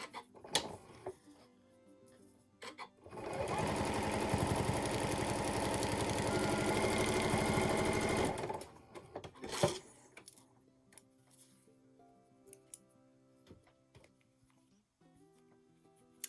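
A sewing machine stitches across the bottom of a small fabric mini needle book in one continuous, even run of about five seconds, framed by quiet handling and clicking before and after.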